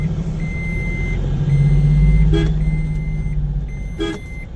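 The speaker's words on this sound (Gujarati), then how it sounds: "જો સામેથી કેટલી બધી ગાડીઓ આવે છે." Vehicles on a village road in Bagatana: a truck engine rumbles close by under a steady run of reversing beeps, broken by two short, sharp horn blasts.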